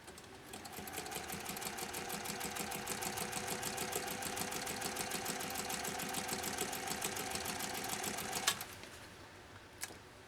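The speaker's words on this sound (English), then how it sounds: "So we'll see how he does now, how this machine does now with right around 12 stitches per inch." A 1930 Singer 101-4 electric sewing machine stitches through leather at about 12 stitches per inch, a steady loud rapid mechanical whir and clatter running for about eight seconds before stopping abruptly, followed by a faint click.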